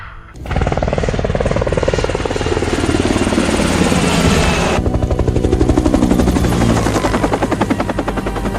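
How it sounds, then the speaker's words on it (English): An extraction helicopter in an action movie flies close and loud, its rotor beating steadily and continuously throughout, with a roaring engine and no talk. "forcing the endangered extraction helicopter to leave"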